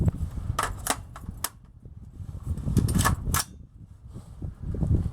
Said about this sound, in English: We're going to go ahead and do a mag dump, see if it still holds zero after we do a mag dump